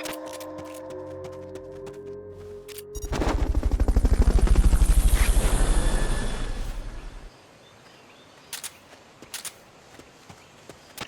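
A Fulton recovery helicopter in the video game Metal Gear Solid Peace Walker swells in as a loud rhythmic rotor chop, peaks for a few seconds, then cuts off, leaving faint scattered clicks.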